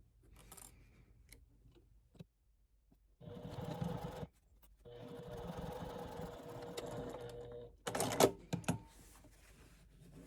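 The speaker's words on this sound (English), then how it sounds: "we're going to sew right across here, attaching the binding" Sewing machine stitching binding onto canvas in separate runs: a short burst, a longer rattling stretch, then a sharper final run, close with quiet pauses between.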